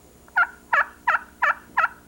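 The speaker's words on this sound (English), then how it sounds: "several groups of gobblers just respond right away to us" Wild turkey gobblers give five evenly spaced, loud, close gobbles in quick succession during a spring hunt, answering a slate call.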